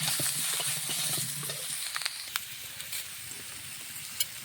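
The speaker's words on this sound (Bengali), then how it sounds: "বেগুনগুলো একটু লাড়াচাড়া করে দেবো।" Eggplant pieces stirred and fried in a wok, a soft sizzle with scraping stir strokes early on, then quieter frying with a few light clicks.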